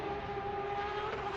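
A steady, sustained engine buzz from a Formula Drift car during qualifying, heard from a distance as a constant drone with a faint whine and no talking.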